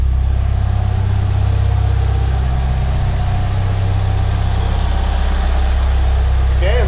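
A Mitsubishi Evolution 6 engine idles at its base idle of about 950 rpm. It holds a steady, close, low rumbling drone throughout without revving.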